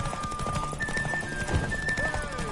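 Hooves gallop in a quick, steady rhythm amid busy ambience in The Witcher 3: Wild Hunt, with a horse whinnying and faint voices in the background.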